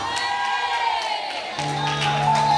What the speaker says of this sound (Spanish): Alguien puede dar un grito de alabanza, alguien puede pegar un grito de guerra.